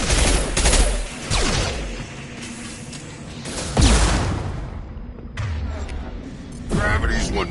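Gunfire in the sci-fi shooter Mass Effect 2, heard as loud, sharp bursts of shots and impacts that come in separate salvos with short lulls between them, up close and dominant.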